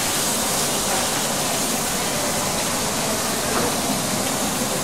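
Water rushes steadily into a commercial pasta cooker in a Vapiano restaurant kitchen, a dense, even hiss that continues unbroken throughout.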